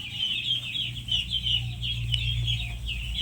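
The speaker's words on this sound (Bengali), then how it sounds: "এগুলো এখন খাচ্ছে। এগুলো হচ্ছে খালি ক্যাম্বেল হাঁস।" Khaki Campbell ducklings feeding together, giving a steady, close chorus of high, thin peeping that runs without a break over a low background hum.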